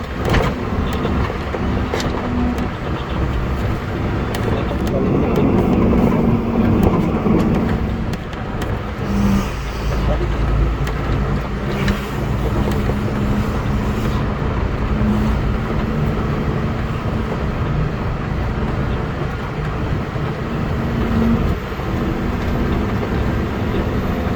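Dump truck engine running at a quarry, a continuous loud rumbling drone with slight rises and dips in revs, heard steadily from close by with no other sounds standing out.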